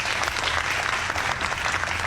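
Dense, steady applause from a crowd cheering for Benin, a continuous wash of many hands clapping at once with no pauses.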